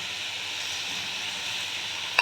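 Soaked, drained rice fries in a hot pan with a little garam masala, a steady hissing sizzle that ends in a short sharp clink of a utensil.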